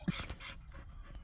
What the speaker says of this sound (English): I have whining dogs in the back, there's actually 3 of them